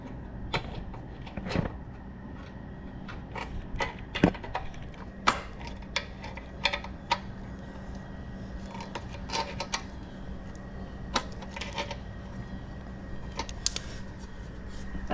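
Parts being screwed onto a mini bike with pliers, scattered sharp metallic clicks and taps at irregular intervals over a low steady hum.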